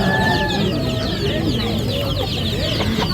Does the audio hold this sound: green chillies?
no